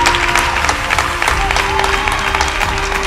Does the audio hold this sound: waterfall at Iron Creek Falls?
no